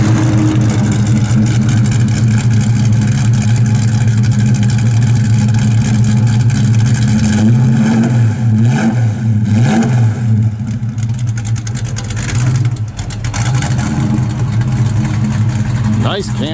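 A 1968 Plymouth Barracuda fastback V8 with dual exhaust and an aggressive camshaft, idling with a loud lumpy burble and blipped revs that swell and fall, heard close up.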